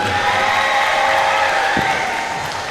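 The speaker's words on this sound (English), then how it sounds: "Let's hear one more round of applause for them." Audience applause and cheering for the Shrum Varsity Band at a school fine arts extravaganza, a steady dense wash of clapping from a crowd that holds throughout and eases slightly at the end.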